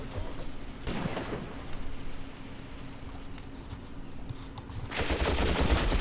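Machine gun fire in the WWII tactics game Graviteam Tactics, with sustained rattling bursts that fade to a quieter stretch before a louder burst returns at the end.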